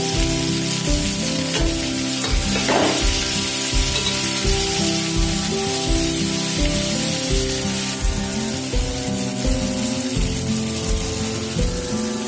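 Cumin and tamarind sautéing in a pan, a loud continuous crackling sizzle up close with rhythmic stirring scrapes running throughout.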